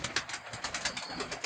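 Teddy pigeons coo in a loft, a close, rapid series of soft rhythmic coos with no talk.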